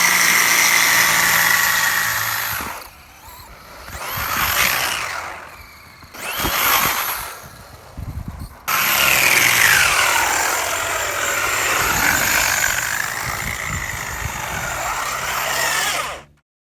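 A Traxxas Slash 2WD brushless RC car driving hard in snow, its electric motor whining loudly with rising and falling pitch, dipping into brief quieter gaps between full-throttle runs.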